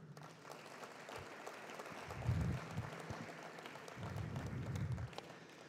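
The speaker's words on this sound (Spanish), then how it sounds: "Para quienes pido un aplauso." Applause from the audience at an oil and gas awards ceremony, a soft, distant spread of clapping with low rumbling bumps that rise and fall under it.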